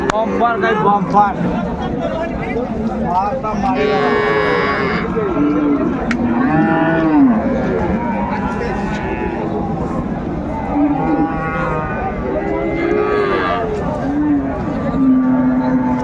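Several loud, drawn-out moos ring out from cattle at a livestock market where a Sahiwal cow stands with her calf, repeated over lively crowd chatter and bargaining voices.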